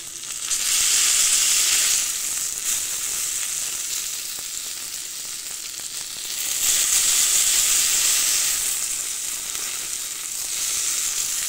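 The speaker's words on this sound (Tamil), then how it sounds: "ரெண்டு பக்கமும் நல்லா வேக வச்சு மொறுமொறுன்னு பொரித்து எடுத்தோன்னா" Eggplant slices fry crisp in hot oil with a loud, steady sizzle that swells and eases in waves, close up and with no voices.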